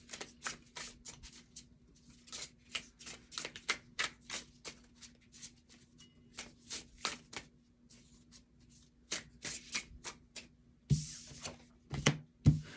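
Tarot cards are shuffled in rapid, crisp riffling bursts up close, the papery flutter repeating in quick clusters with short breaks, growing louder and denser toward the end.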